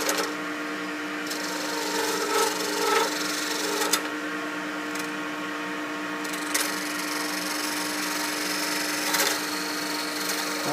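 Ebony pen blank shaped on a wood lathe, a steady whirring hum with continuous scraping from the tool as the back end is tapered, plus a few sharp ticks, close and moderately loud.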